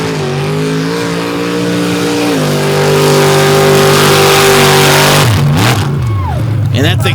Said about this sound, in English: This is Randall Moyer's Jeep Wrangler.